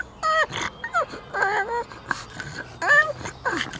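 A freshly bathed dog lets out a run of funny high whimpers and yips in short bursts, close by, with a person's voice murmuring faintly in the background.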